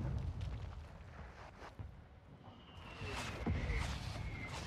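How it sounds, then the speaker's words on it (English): Airstrike explosions rumble through a Call of Duty DMZ match, a low, rolling roar with a couple of heavier booms swelling near the end, mixed with wind-like noise and distant high whistles. "they're launching airstrikes on our asses"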